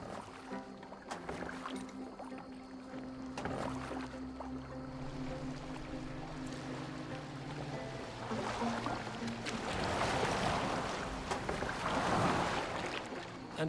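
Boat gliding across water in Assassin's Creed Valhalla, a steady low rumble and lapping wash with swells of splashing toward the end, heard alone without talk.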